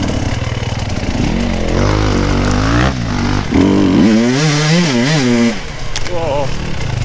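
An enduro motorcycle revs hard on a trail, its engine note rising and falling through repeated throttle blips, with a second engine audible and voices laughing over it.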